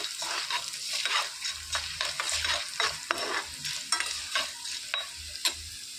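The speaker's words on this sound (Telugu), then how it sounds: "ఒక టేబుల్ స్పూన్ మినప్పప్పు వేసి వేయించుకోవాలండి ఒక టేబుల్ స్పూన్ ధనియాలు వేయించేసుకోవాలి" Urad dal and coriander seeds being fried and stirred in a pan, a constant faint sizzle under frequent dry scraping and rattling strokes of a spoon moving the seeds, close and fairly quiet.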